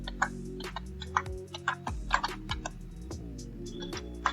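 Fast typing on a computer keyboard while writing code, with quick clusters of clicking keystrokes and short pauses, close and fairly loud over a faint low hum, no voices.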